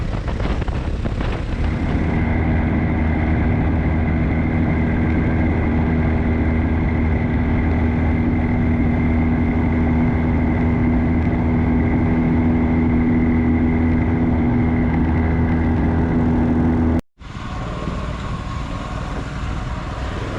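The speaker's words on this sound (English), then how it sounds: "Look at the traffic. Oh my god, there's a lot of traffic." Dense road traffic on a mountain highway in Jammu and Kashmir, including military vehicles, with a steady loud drone of car and truck engines idling and crawling close by, continuous throughout before a brief cut and resumption.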